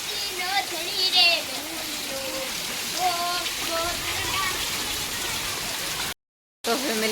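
Wind-driven rain on a farm, falling steadily as a continuous hiss and patter on surfaces while a person talks over it, with a brief dropout near the end.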